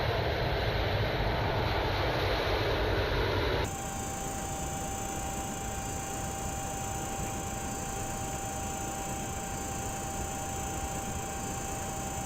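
Steady engine drone of an aircraft in the X-Plane 11 flight simulator game, a continuous hum with a constant tone that drops slightly in level partway through, no voices.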